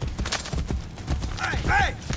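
Horse galloping in the Renaissance-era game Assassin's Creed Brotherhood, rapid hoof clip-clops under game sounds, with a short whinny-like cry near the end.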